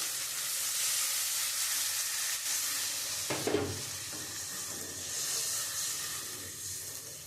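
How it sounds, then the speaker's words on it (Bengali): Water poured onto spiced masala in a hot pan produces a broad, hissing sizzle with steam, with a brief burst of splashing partway through, then a settled simmering hiss. "এবার আমি পরিমাণ মতন জল দিয়ে দেবো।"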